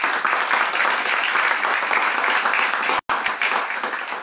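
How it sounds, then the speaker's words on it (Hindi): Loud, dense applause from an audience at a Hindi book launch event, sustained clapping throughout with a momentary dropout near the end before it resumes. "जोरदार तालियां।"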